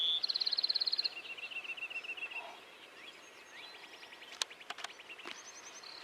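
A Bewick's wren sings nearby: a rapid buzzy trill of repeated notes followed by quicker chattering phrases over a quiet outdoor background.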